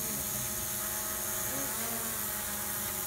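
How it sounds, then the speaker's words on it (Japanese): A drone hovers overhead above an outdoor stage, a steady close buzzing whine that holds evenly throughout with slight pitch wobbles. "上空にドローンを発見しております。"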